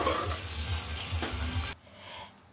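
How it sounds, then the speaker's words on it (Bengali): Onions, garlic and beef fry and are stirred in a pan for bhuna khichuri, a close, steady sizzle with scraping stirs that cuts off abruptly, leaving a quieter frying hiss. "সব কিছু মিলিয়ে ভেজে নিচ্ছি।"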